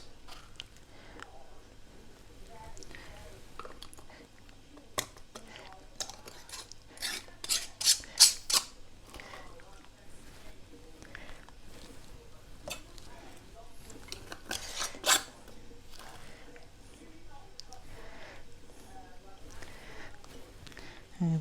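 Metal screw bands are twisted onto glass canning jars of sweetcorn, giving repeated close scraping, rasping turns with light metallic clinks, heaviest in a burst partway through, with a voice now and then.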